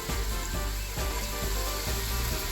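Chilli and onion sautéing in hot oil for Ramadan nombu kanji, a steady, close sizzle with soft rhythmic pulses as the pan is stirred, and no voices.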